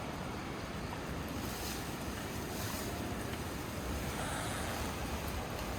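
Sea surf surging at the foot of a roughly 200-metre cliff on Java's southern coast, a steady broadband wash heard from high above, mixed with gusty wind buffeting the microphone and no voices.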